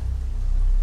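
Steady rain falls in the VR horror game Don't Knock Twice, a continuous soft hiss with a low rumbling wash underneath, even and unbroken for under a second.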